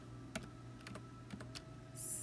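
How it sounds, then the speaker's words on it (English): A few quiet, irregular clicks of keys as a word is typed on a computer keyboard, faint and close against a low steady hum. "I'll just type in the word Christmas"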